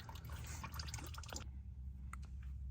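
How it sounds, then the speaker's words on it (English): Transmission fluid trickles steadily from the drain hole of a BMW manual gearbox into a catch pan, a soft continuous dribble with a few small drips, close and alone. "We're just gonna let this trickle"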